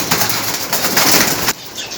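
A close, loud burst of wing flapping from a pigeon held in the hand, a rapid fluttering beat that stops abruptly after about a second and a half, with soft cooing from other pigeons nearby.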